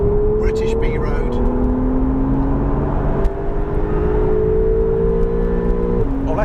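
Porsche 911 Targa 4S (991.2) flat-six engine revving through an upshift on a British B road, a steady loud engine note rising in pitch, dipping briefly at the gear change, then climbing again, with talk over it.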